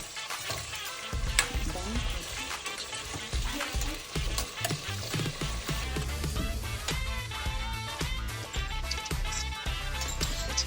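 Onions frying in a pressure cooker for vegetable pulao, a steady crackling sizzle with scattered pops and stirring scrapes, close and fairly quiet, with no talking.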